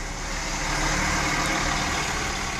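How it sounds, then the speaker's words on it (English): Heavy Vienna traffic crawls through roadworks, a dense, steady rumble of engines and road noise filling the scene without a break, close and constant, with no voices. "I'm stuck in Vienna traffic, crawling along because of roadworks"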